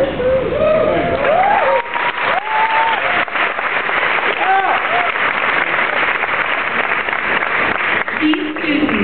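Audience applause at a high school graduation ceremony, a broad, steady clapping roar from a large crowd lasting throughout, with scattered whoops and cheers rising over it.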